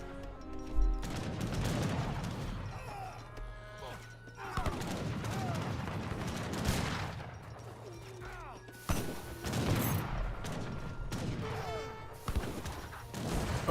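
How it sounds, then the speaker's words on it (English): Dynamite explosions in a real-time strategy battle in Age of Empires III: a series of sharp cracks and blasts in irregular bursts, mixed with clattering gunfire and other battle noise, with a commentator talking over them. "Oh wow, good grenade, good dynamite toss on those units there."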